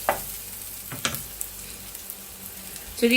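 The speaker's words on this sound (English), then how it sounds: "So we're just going to let it saute a little" Food sautéing gently in a pan as the base of a Jamaican spaghetti and meatballs sauce: a low crackling sizzle with a couple of sharp utensil knocks at the start and end.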